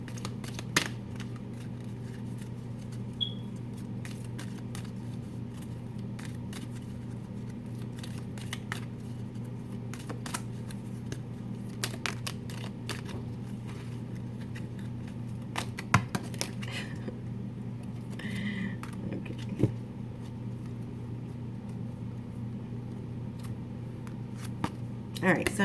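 Oracle cards are shuffled and pulled, giving soft scattered rustles and sharp flicks over a steady low hum. The sounds stay fairly quiet and close throughout.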